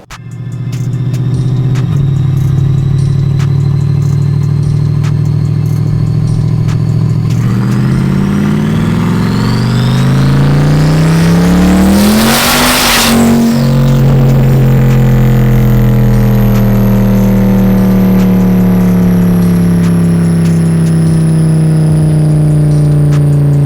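A twin-turbo 427ci C8 Corvette E-Ray engine revs steadily up toward 5,000 RPM under load on a dyno, its loud rising drone building to a peak around the middle with whooshing turbo noise, then settling into a sustained high hum.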